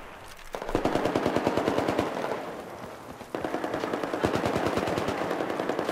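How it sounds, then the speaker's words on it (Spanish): Rapid machine gun fire in the video game Battlefield 4, two long sustained bursts of evenly spaced shots with a short gap between, loud and close, no talking. "Nada más suenan los metralletazos"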